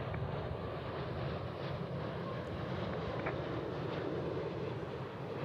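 A Qantas Airbus A380 airliner rumbles past at Dallas Fort Worth airport, a steady, broad engine roar held at moderate distance throughout with no voices.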